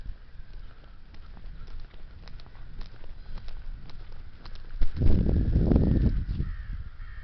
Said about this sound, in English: Sound like a lot of crows coming from those trees